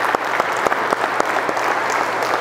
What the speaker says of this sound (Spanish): Vamos a darle un último aplauso.